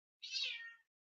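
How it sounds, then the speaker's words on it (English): A pet cat gives a single clear meow lasting just over half a second, close and alone against silence. "that's my cat."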